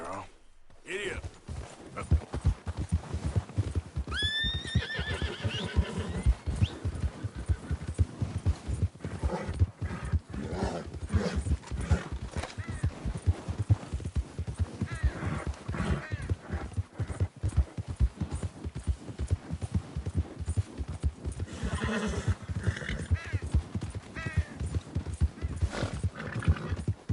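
A horse gallops in Red Dead Redemption 2, hooves clip-clopping in a steady fast rhythm throughout, with a few whinnies and game music underneath and someone talking over it.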